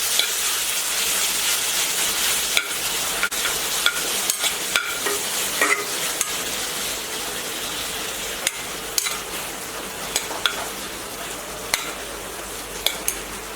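Two tomatoes fry in a pan with a steady, bright sizzle, broken by frequent sharp clicks and taps of a spoon stirring against the pan, with no talking.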